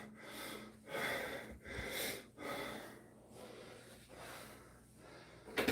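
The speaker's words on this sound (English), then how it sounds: "Start panting." Heavy, ragged panting after bent-over barbell rows, a run of loud rhythmic gasping breaths close to the mic, each pulling in and pushing out air with no talk over it.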